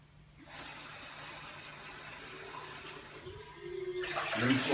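Ordinary tap water rinsing steadily in a home sink, a continuous broadband wash that swells louder and splashier toward the end, with no voices.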